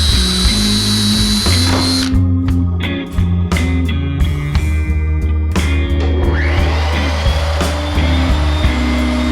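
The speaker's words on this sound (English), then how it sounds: "With the master template pushed firmly against the guide bushing, a slot was made from hole to hole." A router fitted with a 1/8 inch bit and guide bushing cuts a slot from hole to hole through a wooden master template, giving a loud, steady high-pitched motor whine with shifting pitch as the bit bites the wood, running continuously throughout.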